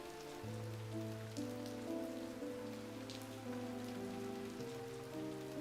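Steady rain falls across a video game scene and patters on surfaces. It plays as a soft, continuous wash under a sustained musical drone, with no one talking.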